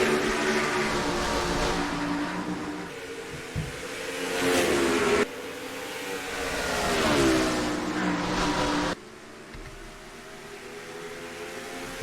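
Stock cars taking the green flag at Bristol in the NASCAR Racing 2003 game's Krispy Kreme 500, a pack of engines revving and rising in pitch as they accelerate, with abrupt cuts between sweeping passes, loud and near.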